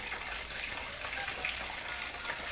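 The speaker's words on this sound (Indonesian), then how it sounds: "Ini kita nunggu airnya penuh sini." Water pours steadily into a fish tank for a channa during cleaning, a constant, close gushing hiss with no pauses and no talking.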